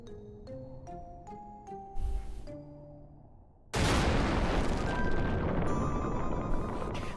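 Explosions going off in the Final Fantasy XI video game, a sudden loud blast at mid-clip that settles into a sustained rumbling roar, preceded by a string of game sound effects and tones.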